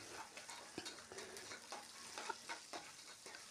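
Whole small shallots sautéing in a pan for South Indian tomato rice, a steady low sizzle with soft stirring scrapes at irregular intervals, close but fairly quiet, no voices.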